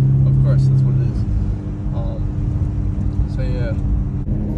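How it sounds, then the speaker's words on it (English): Ford F-150 pickup truck driving, a steady low engine drone with road rumble inside the cab, while people talk over it. "he is zooming in his beautiful, beautiful car, the Ford F-150"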